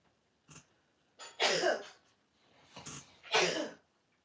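Short sneezes up close, each a quick intake followed by a sharp explosive burst; three bursts in all, the last the loudest.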